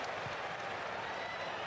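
Steady applause and crowd noise fill a stadium during the Canada vs Qatar World Cup match, a dense, even wash of clapping heard at a distance with no break.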